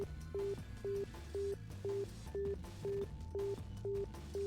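A telephone line tone from an in-game phone: a steady, evenly spaced series of short beeps, about two per second, quiet and mechanical over a low background hum.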